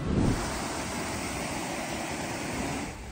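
The river at Binalbagan Bridge overflows during flooding and reaches nearby houses, producing a steady, broad rushing roar of water mixed with wind buffeting.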